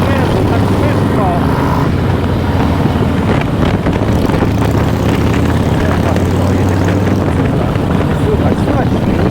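Engine of a pre-war Polish Sokół 1000 motorcycle running with its stock muffler, a steady low drone throughout, loud and close, with a voice briefly over it.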